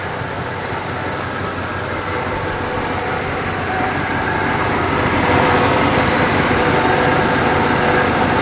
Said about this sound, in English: Kendra's going to give it a little rev.